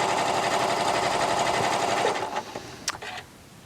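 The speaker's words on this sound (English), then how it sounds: "this allows me to go ahead and sew that Serpentine stitch." A Janome Continental M7 sewing machine fitted with a big foot runs steadily, stitching a serpentine stitch across a quilting seam with a dense, even mechanical whirr, then slows and stops with a few small clicks.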